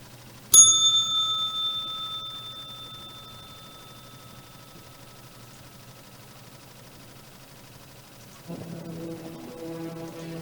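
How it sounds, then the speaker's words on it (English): A single bright trading bell strike rings out loud and clear, its metallic tone decaying slowly for several seconds before soft music comes in. "And I'll see you at the bell."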